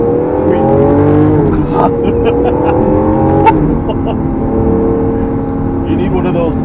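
Lamborghini Aventador SV engine roaring loudly while driving, a sustained rich rumble with rising and falling pitch as it revs through gears, continuous and close for the whole stretch.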